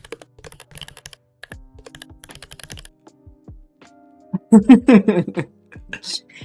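Fingers tap rapid, uneven bursts of clicks on a French-layout computer keyboard, close and crisp, before the typing pauses and a voice speaks.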